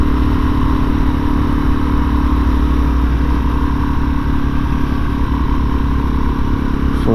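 A Suzuki DRZ motorcycle engine runs steadily and loud throughout, a constant mid-pitched drone with no clear pass-by swell.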